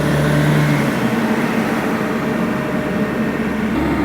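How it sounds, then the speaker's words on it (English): Car engine braking in fourth gear on a steep descent over washed-out roads in Georgia, with a slipping clutch; a steady droning engine hum with road rumble, close and continuous, no voices. "I'm in 4th gear engine braking, and I'm selectively choosing to use my brakes"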